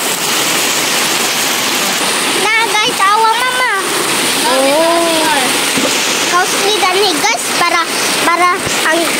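Heavy rain pours with water rushing and splashing in a steady, loud wash, while voices talk over it.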